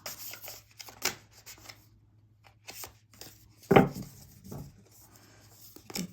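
Thick tarot cards are shuffled by hand, giving scattered soft rustles, taps and flicks with one sharper slap near the middle over a quiet low hum.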